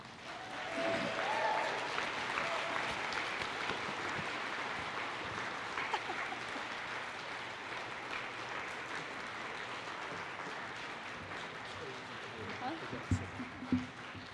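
Sustained applause from a convocation audience at a campus ceremony, steady and full for most of the stretch, with voices mixed in and a few sharper claps near the end.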